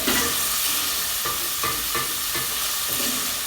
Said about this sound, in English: cook your onion, and you don't have to cook it till at a golden brown